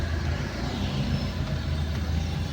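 Road traffic on Ortigas Extension at Tikling, a steady low rumble of trucks, buses and cars passing nearby, continuous and moderately loud with no talk.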